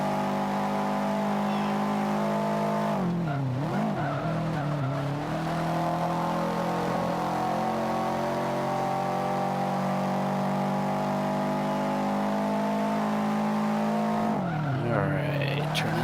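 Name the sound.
race car driving a lap in video game Forza Motorsport 5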